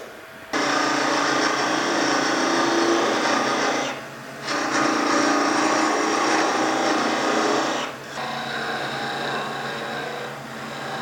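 A wood lathe turns a gumnut tool handle while a tool shapes it, producing a loud, steady rasping hiss that pauses twice briefly and resumes, close up with no speech.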